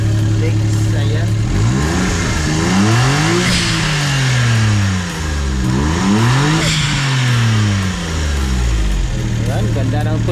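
Suzuki Every turbo van engine revving repeatedly, loud and close, with rising and falling engine pitch swells between idle dips while someone talks over it.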